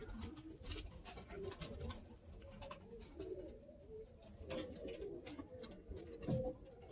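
Birmingham Roller pigeon cocks coo softly in a loft, low repeated throaty coos overlapping with faint fluttering and rustling, fairly quiet and close.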